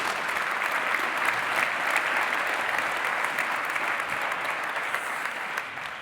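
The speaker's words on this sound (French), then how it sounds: "On l'applaudit, s'il vous plaît." An audience at the SVC Geneva 2025 awards event applauds steadily, a dense wash of many hands clapping at even strength that tapers slightly at the very end.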